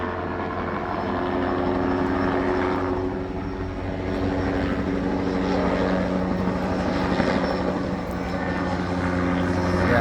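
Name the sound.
helicopter flying off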